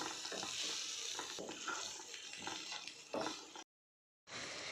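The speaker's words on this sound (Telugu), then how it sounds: "ఈ ఆనియన్స్ ఎలా బ్రౌనిష్ అయ్యాయో అలానే అవి అలా అయ్యే వరకు మనం ఇలా తిప్పుతూనే ఉండాలి" Browning onions for a boneless dry chicken curry sizzle steadily in a hot pan while a spoon stirs them, with a few louder scrapes and clatters before a brief silent gap and the frying resumes.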